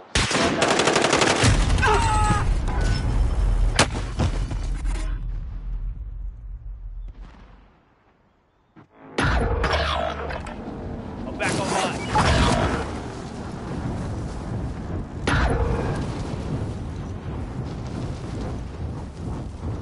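Heavy automatic gunfire in the Plunder video game, loud and dense bursts with a brief lull midway before rapid shooting resumes and continues to the end.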